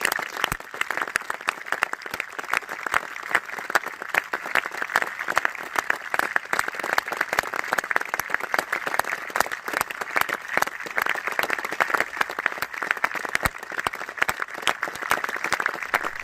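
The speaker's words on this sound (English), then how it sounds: "A minute's applause was held at the ground to mark the memory of David Hyde" A rugby ground crowd gives a minute's applause in memory of a lost figure, sustained dense clapping rolling evenly from a distance without pause.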